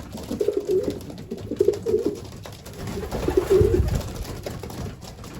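Racing pigeons cooing inside a loft, breeders and young birds together, with repeated soft low coos in short phrases close by and some shuffling, no speech.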